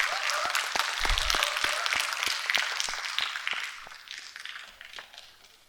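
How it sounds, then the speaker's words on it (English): An audience applauds a guest welcomed onto the stage at a hosted show, with scattered loud claps over a crowd murmur that gradually fades toward the end. "A huge round of applause, everyone."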